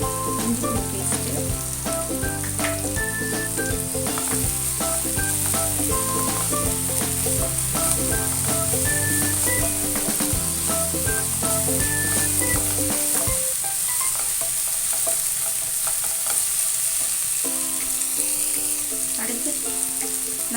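Ginger garlic paste frying in a pan while being stirred, a steady close sizzle with scraping stir strokes running throughout under background music.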